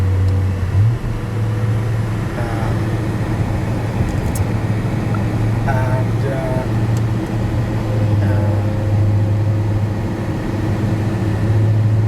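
An 800 hp G-Power BMW M5 V10 Bi-Kompressor Hurricane RR cruising on a German Autobahn, with a steady loud engine drone and road and wind roar throughout, the pitch rising slightly as it accelerates.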